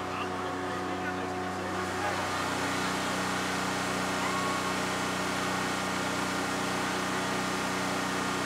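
The new diesel engine of a small excursion train rumbles steadily with a low, even drone that holds at a constant level, close and continuous.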